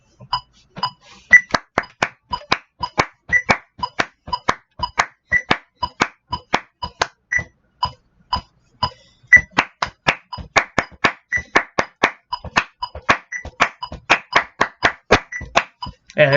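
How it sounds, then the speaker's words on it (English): Hands clap a brisk, syncopated rhythm in sharp, close, evenly loud strikes that run continuously, with brief uneven gaps between groups of claps. "Let's speed that up, and I'll try to clap that"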